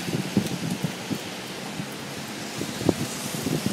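Cold rain falling outdoors, a steady hissing wash with irregular pattering drops striking nearby surfaces, moderately loud and continuous, with no talking.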